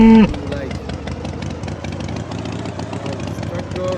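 A tractor engine drives in a mobile bull-versus-tractor challenge game, giving off a steady mid-pitched drone that stays loud throughout after a brief louder burst at the start.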